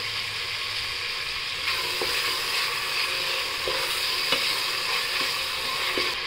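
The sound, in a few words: tomatoes and coriander frying in oil for peas paneer pulao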